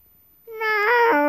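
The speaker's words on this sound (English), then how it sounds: "That's just a cat sound." A cat gives a single rising, drawn-out meow close by, loud and clear after a moment of near silence.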